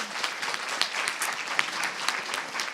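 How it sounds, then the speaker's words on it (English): An audience at a Central Saint Martins event in London claps steadily, a moderately loud, even ripple of hands with a few sharper individual claps standing out, no voices on top. "just a huge round of applause to you and your team"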